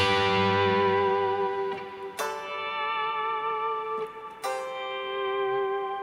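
Sustained electric guitar notes imitating pedal steel swell in with soft volume-swell attacks and glide between pitches, ringing with effects and echo, two new swells entering midway.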